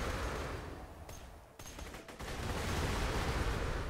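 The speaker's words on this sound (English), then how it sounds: "Look at these rockets." Rockets and heavy weapons fire in the video game Borderlands 2, a dense, continuous barrage of blasts and explosions with a brief lull in the middle before the loud volley resumes.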